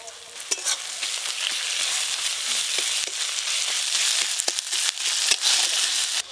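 Chopped onion with ginger-garlic paste fries in a pan, a dense, steady sizzle running close and loud throughout, broken by scattered sharp clicks and scrapes from stirring; nobody speaks.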